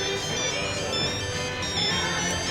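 A cell phone ringtone plays a continuous melodic tune, loud and steady, before cutting off abruptly at the end.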